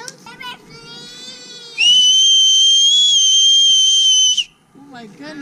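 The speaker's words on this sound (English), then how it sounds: "I have the most piercing whistle." A loud, piercing human whistle holds one steady high tone for nearly three seconds, with children's voices chattering before and after it.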